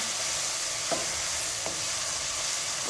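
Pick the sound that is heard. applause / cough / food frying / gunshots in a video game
food frying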